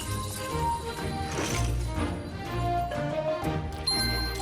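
A power-up pickup in the LEGO Party video game on PS5 plays a bright tinkling jingle with ringing dings, over busy game music and effects, with no one talking.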